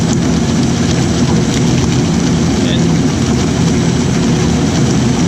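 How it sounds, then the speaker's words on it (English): A Virtus Equipment A1830 slow-speed granulator with a 6 mm screen grinds a full dumped box, making a loud, steady, dense mechanical roar with no breaks. "It's just basically the grinder, and just dump the box in it."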